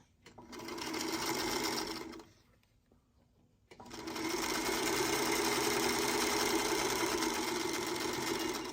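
A sewing machine stitches quilt block pieces in a fast, steady whir, pauses briefly for about a second and a half, then starts again and keeps running evenly at close range.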